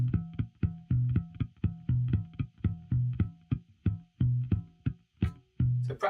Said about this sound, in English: it's just an exercise to get you to practice those muted notes